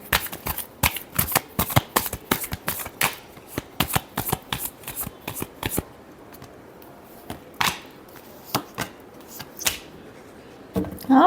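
A deck of cards is shuffled up close in a rapid, dense run of crisp riffles and snaps, then slows into a handful of separate flicks and taps toward the end, with no talking.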